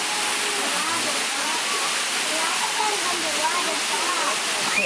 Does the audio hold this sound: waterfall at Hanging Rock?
yes